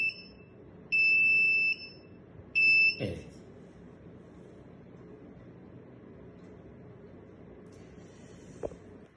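A fire suppression panel's warning buzzer sounds in two long, steady, shrill tones, the first after a brief beep, followed by a click and a quiet room hum with a faint later chirp.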